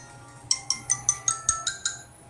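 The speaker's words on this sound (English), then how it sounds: "My cell phone ringtone is so lit." A cell phone ringtone plays a bright, electronic melody of eight evenly spaced beeping notes, fairly close and clear, with no talking over it.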